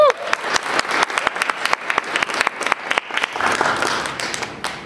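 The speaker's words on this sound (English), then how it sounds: "Laurel deserves a big round of applause for pulling all this stuff together" An audience at a forest and fire talk applauds, crisp close claps building into a lively round with some cheering voices mixed in.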